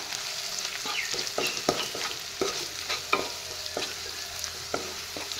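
Chili, coriander and cumin powder stirred in a hot pan for a masala chicken curry: a soft continuous sizzle broken by repeated sharp scrapes and taps of a spoon on the pan, close and fairly even in rhythm.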